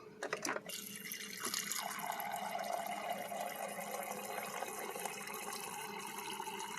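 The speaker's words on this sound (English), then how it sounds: "you only need about half of the jar filled with water." Water pours steadily into a jar, filling it about halfway, a continuous close splashing stream with the pitch gradually rising as it fills, no voices.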